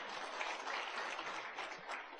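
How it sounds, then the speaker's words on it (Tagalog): A church congregation claps together in dense, sustained applause at a Filipino preaching service, loud and continuous with no pause. "Palakpak ka na Jesus."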